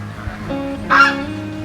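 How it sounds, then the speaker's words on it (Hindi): Ducks kept at a forest cowshed call out, a loud nasal honk rising over a low background hum and fainter quacking nearby. "ये देखिए यहाँ पर छोटे छोटे बतख हैं"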